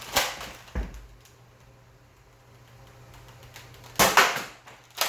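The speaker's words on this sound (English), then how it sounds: "it shotguns, they both fire out at the same time" A Nerf Max Stryker blaster fires two darts at once with sharp, punchy pops and mechanical clacks near the start and again a few seconds later, loud and close, with quiet handling between and no voices.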